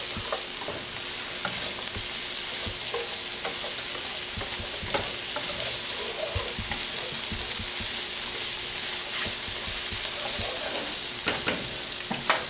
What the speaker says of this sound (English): I'm just going to stir that around and incorporate it into our vegetables and cook out the flour taste